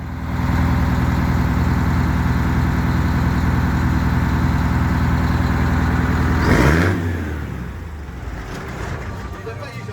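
Truck engine at a car museum idling loudly and steadily close by, then switched off, the rumble cutting out and fading to quieter background sound.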